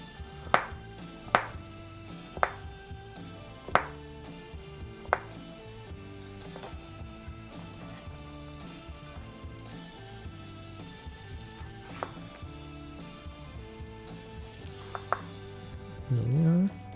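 Knife chopping a small piece of grana padano cheese into little cubes on a board, giving a string of crisp, close taps that start sharp and regular and then thin out into sparser, quieter cuts, with no talking.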